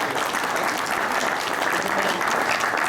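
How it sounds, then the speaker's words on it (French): Loud, dense audience applause fills a hall at a dog competition, steady and unbroken throughout with many hands clapping at once. "je vous demande de les applaudir bien fort"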